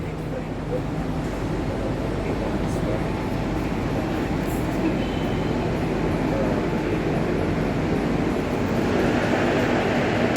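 A Jakarta MRT train runs into Lebak Bulus station with a steady loud rumble and rush of wheels inside the carriage, continuous for ten seconds while announcements and voices carry over it.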